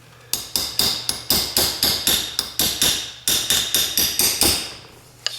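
Steady run of sharp metallic hammer taps driving a seal out of a Sterling 10.5 axle hub on a 1999-2008 Ford F-250/F-350, about fifteen close, quick strikes with brief pauses between bursts.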